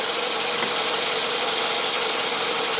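A car engine idles steadily and loud while the coolant is flushed with a garden hose, a constant dense mechanical hum with no talk.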